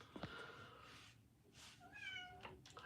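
A cat meows repeatedly, several drawn-out, rising cries a short distance away over a low background hum, with a human voice imitating the meows.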